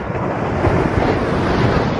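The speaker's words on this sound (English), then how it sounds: "We've got a single rock and we've got the waves crashing" Ocean waves crash over a single rock at sunrise, a dense, continuous roar of surf mixed with heavy wind buffeting the microphone.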